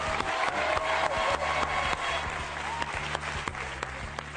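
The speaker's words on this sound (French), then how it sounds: "on applaudit Jérôme." Studio audience applause on a French TV game show, a sustained, even roar of clapping from a large crowd, fairly close, with a low hum underneath.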